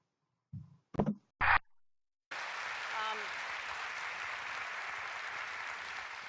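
A few brief voice bursts, then sustained loud applause from a crowd, steady clapping continuing to the end.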